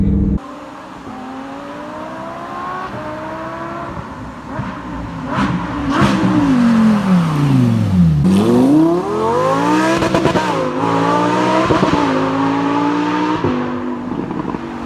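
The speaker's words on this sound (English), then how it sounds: "The exhaust note, I mean, this car is probably one of the loudest cars I've ever been around." A Lamborghini Huracan Performante sports car engine revs loudly up and down repeatedly, exhaust roaring and rising in pitch, with pops and crackles between pulls.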